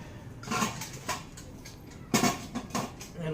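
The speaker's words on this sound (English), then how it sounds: "Some more pots and pans." Luster Craft stainless steel pots and pans clank and knock together as they are packed, in a few separate clattering bursts with quiet gaps between.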